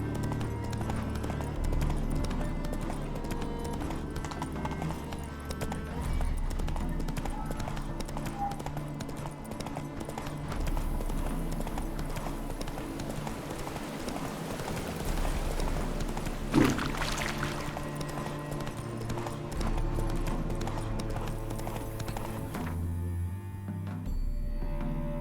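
Hooves of Roach, the horse in The Witcher 3, clopping in a steady galloping rhythm under a continuous layer of game music and ambience, running for the whole stretch with no voices.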